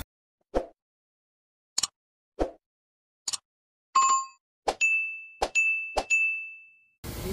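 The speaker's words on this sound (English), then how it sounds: "hit bing that little notification bell" A series of crisp notification chimes: several short clicks and pops, followed by bright bell dings, the last few ringing out with a sustained tone, each isolated against silence.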